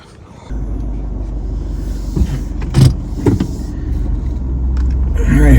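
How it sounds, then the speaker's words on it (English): A car rolls through a suburban St. Louis Park neighborhood, steady low road rumble and engine drone from inside the cabin, with a few brief mechanical clunks and whirs partway through and the hum growing slightly louder at the end. "Let's go take a drive around the neighborhood."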